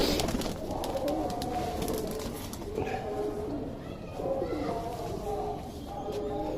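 Andhra Madrasi breed pigeons coo softly in a loft, low murmuring calls repeating over a busy background of rustling and other birds, with someone speaking intermittently nearby.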